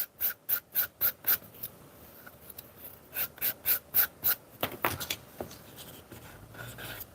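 Sanding a leather edge by hand: rhythmic, close scratchy strokes in regular bursts of about five, pausing, then another run, ending in softer irregular rubbing.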